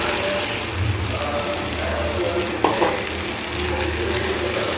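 Sprouted green gram being stirred into tomato frying in oil for a sprout gravy, a steady hissing sizzle with a sharp scrape of the spoon midway and no talk.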